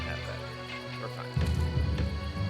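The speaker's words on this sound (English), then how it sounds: "So that noise you just heard was my barracks is built." Building-complete cue for a barracks in the real-time strategy game Empire Earth, a short chime that lands midway over steady game music, fairly loud and with no talk.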